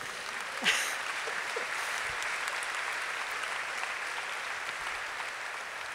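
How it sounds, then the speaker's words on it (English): A graduation crowd at a senior high school ceremony claps from a distance, faint but continuous throughout. One sharp louder clap stands out near the start. "Now you can clap because I got through it."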